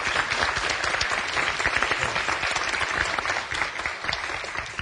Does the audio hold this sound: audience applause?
yes